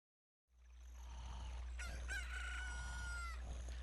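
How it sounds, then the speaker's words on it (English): A rooster crows in The Legend of Zelda: Ocarina of Time - Master Quest just after an egg hatches, a single bright cock-a-doodle-doo over a steady low game hum. "as you can see, the egg just hatched into a chicken"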